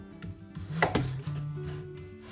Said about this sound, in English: I'm gonna cut the apples in half, like this.